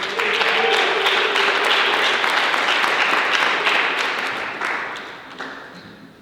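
Dense audience applause for a hip hop artist at the Vision + Verse Blak Origin Moment event, loud and sustained at first, then thinning and fading over the last seconds.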